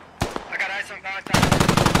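Loud bursts of automatic gunfire from a SquadOps military game, a rapid machine-gun stream filling the second half after a brief shouted voice and scattered shots.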